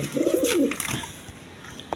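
A pigeon coos close by, one soft throaty rolling call early on, followed by quieter rustling and a faint chirp near the end.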